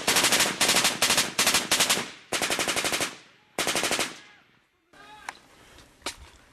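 Machine gun fire in combat in Afghanistan, with Australian troops under fire: loud, close bursts of rapid shots in quick rhythmic strings. Later come a longer sustained burst and then sparser, quieter single cracks.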